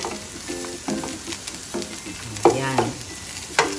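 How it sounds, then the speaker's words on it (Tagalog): Shrimp for pad thai stir-fry in a hot pan, sizzling steadily while a utensil scrapes and tosses in irregular bursts, with a brief spoken word or two over the cooking. "pag nagkulay orange na ang ating shrimp, ay pwede na natin siya ulit"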